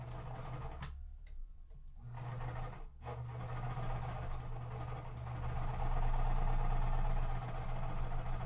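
A sewing machine stitches pieces of quilt fabric, running as a steady mechanical whir with a brief pause early on, then continuing close and fairly loud without any talking.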